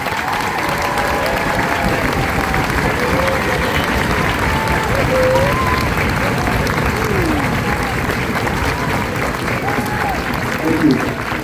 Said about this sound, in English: Please join me in a round of applause for these heroes.